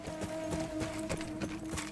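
Horse hooves clip-clop steadily in the Battlefield 1 campaign, a regular rhythm of hoofbeats over a sustained game tone, fairly close and alone without talk.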